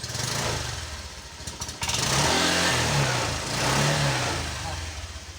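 A Honda Vario 125 scooter engine revs up and down steadily for several seconds, its low hum rising and falling in pitch at close range.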